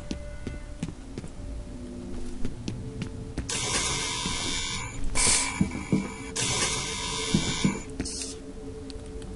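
A surveillance device mechanism in the video game F.E.A.R. gives off a steady electronic hum with whirring bursts, set against quiet background game ambience with no speech.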